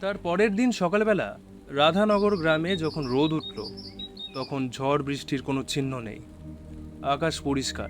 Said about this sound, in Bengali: পাখিরা ডাকছে।